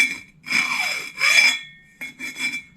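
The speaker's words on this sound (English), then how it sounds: "file it slightly smooth, because you don't really want it to tear the tube" A hand file rasps over the metal rim of a snowblower wheel during a tire and tube repair. Four close, gritty back-and-forth strokes are separated by brief pauses, with no voices.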